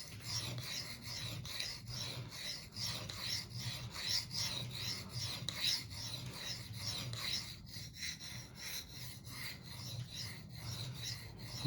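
A kitchen knife is sharpened by hand on whetstones, giving a steady, close rasping scrape of steel across stone in repeated even strokes with no speech.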